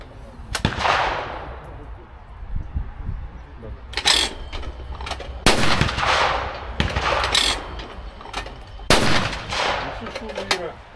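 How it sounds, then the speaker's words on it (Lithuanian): Sharp gun reports at clay targets during a shooting session, about five separate shots spaced a few seconds apart, each with a ringing echo tail over faint background noise. "Šūviai yra, va čia lėkštė"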